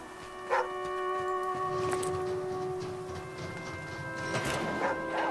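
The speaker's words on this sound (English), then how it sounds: "What are you barking about?" A dog barks in the video game The Flame in the Flood, a few short barks spaced apart over a steady backdrop of game music.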